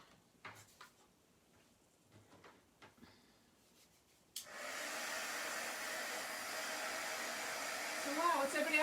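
A hair dryer switches on abruptly partway through and blows a steady, loud broadband roar to the end, drying chalk paste on a craft stencil, after a few quiet taps and handling clicks.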